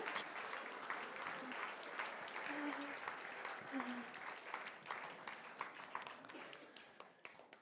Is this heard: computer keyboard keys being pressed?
no